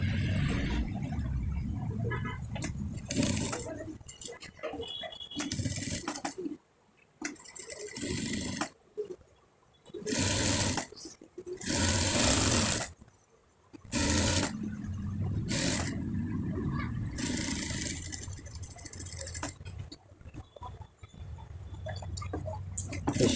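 A sewing machine runs in short bursts of rapid clattering stitches while a fatua is sewn along a round band, with quieter pauses between runs and close, steady mechanical whirring.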